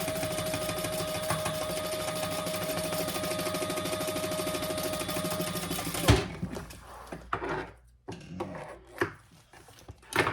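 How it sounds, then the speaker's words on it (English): A sewing machine stitches down the sides of a travel jewelry case with a steady, close mechanical whir for about six seconds, then stops, leaving soft handling noises. "I think I'm gonna stitch down all my sides just to secure everything before I do anything else"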